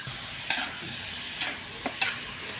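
Chicken and glass noodles are stir-fried in a pan, with a steady sizzle under a few sharp scraping strokes of the utensil against the pan, close and moderately loud.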